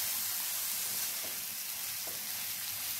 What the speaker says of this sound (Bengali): এখন ঝিঙেটা দেওয়ার পরও আবার বেশ ভালো করে এটার সাথে নাড়াচাড়া করে দেবো।